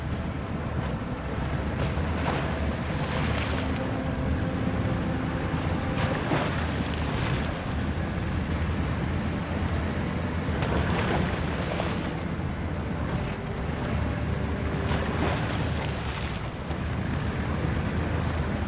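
A boat powered by a HAL GTE1500 engine crossing open water in a game, steady engine drone with wind rush and splashing waves, continuous and fairly even with periodic surges of spray.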